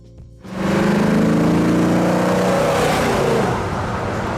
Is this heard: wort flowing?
no